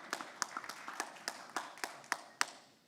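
Scattered audience clapping at a South African investment summit, a dozen or so sharp, uneven claps spread across a few seconds, moderately close and fairly sparse rather than a full roaring ovation.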